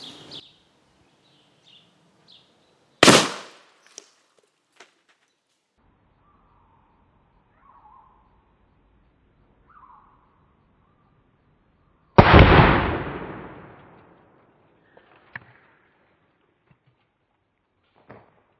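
Two loud booming shots from an inline muzzleloader rifle fired at spray snow cans outdoors, spaced about nine seconds apart, each with a long rolling echo tail, while birds chirp faintly in the quiet between.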